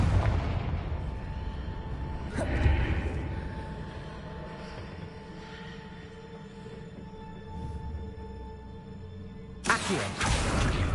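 A Confringo spell from Hogwarts Legacy bursts with a deep, rumbling boom, followed by a lingering low roar and a second sharp blast near the end.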